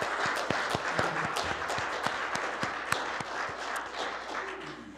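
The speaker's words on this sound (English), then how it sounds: "Let's give another round of applause." Applause for the band at a Sunday morning service, with individual sharp claps standing out over a thinner crowd, steady and moderately close, gradually tapering toward the end.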